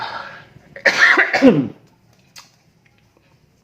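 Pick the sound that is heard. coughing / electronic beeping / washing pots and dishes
coughing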